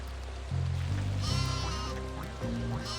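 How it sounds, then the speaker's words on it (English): Sheep bleating in the Skylanders: Giants video game on PS3, a few drawn-out bleats over layered game music, fairly loud and steady across the scene. "Shit, got the sheep back here."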